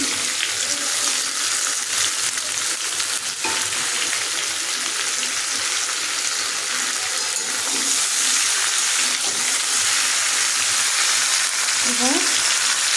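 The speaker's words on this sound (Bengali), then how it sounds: "তখন আলু কুমড়োটা ভাজা ভাজা হয়ে এসছে" Steady, dense sizzling of potato and pumpkin frying in a pan, a continuous crackling hiss throughout with occasional faint stirring and no talking.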